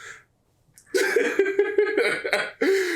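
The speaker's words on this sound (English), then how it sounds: "there goes our little boy coughing over there with a little coughing fit" A short burst of a young boy's repeated coughs, loud and close, following a brief quiet moment with a faint breath.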